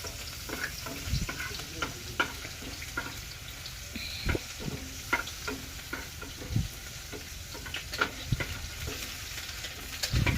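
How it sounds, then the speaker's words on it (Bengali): Prawns frying in a pan, a close continuous sizzle with intermittent stirring knocks and scrapes scattered across it, with no one talking. "আমার জন্য ওই দেখো চিংড়ি মাছ ভাজা হচ্ছে"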